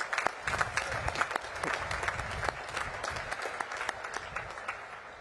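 Sustained applause from the audience at the 2025 US Naval Academy graduation ceremony, dense clapping from a large crowd with occasional cheers, steady throughout.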